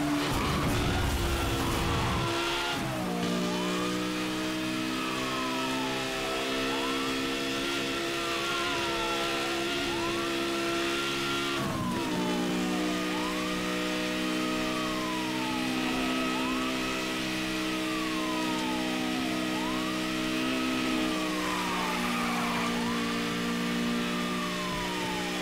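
A police car chase in the Need for Speed Hot Pursuit racing game: engines roar steadily as gears shift up and down, with repeated sweeping tire squeals and skids over a constant loud drone, and no talking.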